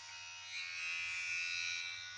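A Wahl Detailer 5-Star cordless hair clipper runs close by with a steady, buzzy electric drone that swells slightly in loudness, a harsh rattling hum heard alone.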